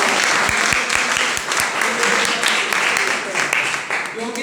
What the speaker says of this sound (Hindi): पहले तो आप इस चीज के ताली बजाओगे